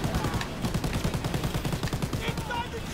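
Rapid, continuous gunfire rattles from an overheating gun in Call of Duty WWII during a fight aboard a train, a dense burst of shots with no gaps.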